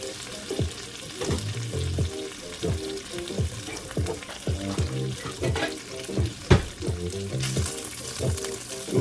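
Chashu pork sizzles in oil in a pan for tomato Napolitan spaghetti, a steady crackling fry punctuated by regular scraping and clinking strokes as it is stirred, close and moderately loud.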